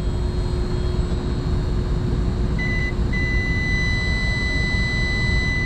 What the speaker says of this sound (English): Short it out, you hear the beep.